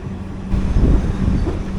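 NMG automobile-carrier railway wagons rolling past on a train journey, a steady low rumble with broadband rail noise that swells slightly in the middle, close and continuous with no talk.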